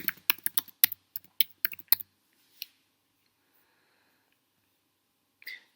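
Quick run of keystrokes on a computer keyboard, about a dozen close, crisp taps over two seconds, then a lone tap and a brief click after a quiet pause.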